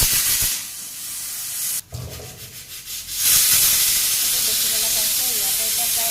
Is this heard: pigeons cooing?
no